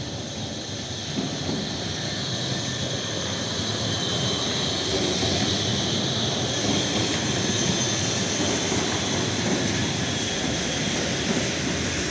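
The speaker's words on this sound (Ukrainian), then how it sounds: "Ай, трамвайчик іде." A number 8 tram rolls along a Lviv street, a steady broadband rumble and hum with a sustained high-pitched whine, holding even loudness throughout without speech.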